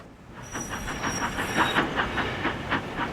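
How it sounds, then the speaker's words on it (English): A saddle tank steam locomotive trundles into a rail yard with a rhythmic, evenly spaced chuffing beat, a soft hiss of steam and a high whistle-like tone early on, heard at moderate distance. "he noticed a familiar saddle tank trundling into the yard"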